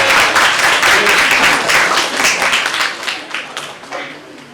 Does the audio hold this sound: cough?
no